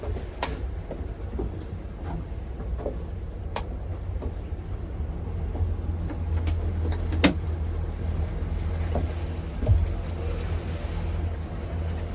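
Low engine rumble from a line of boats coming into harbour under wind and lapping waves, with scattered knocks and clicks, steady and moderately loud.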